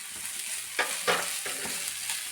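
Boiled cassava, cooked earlier with salt, fries lightly in a pan with a steady close sizzle and a few louder stirring scrapes, no voices.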